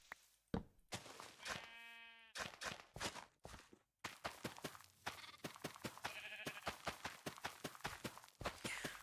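Sheep bleat in a Minecraft-style video game, a clear harmonic bleat standing out at one point and a fainter one later, amid quick, rhythmic blocky footstep and clicking sounds from gameplay.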